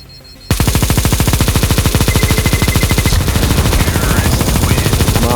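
Sustained rapid automatic gunfire in a close-combat video game, a dense machine-gun stream that starts abruptly and stays loud and steady throughout, with a slight change in texture partway through.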